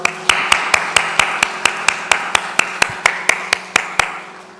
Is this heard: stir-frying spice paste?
no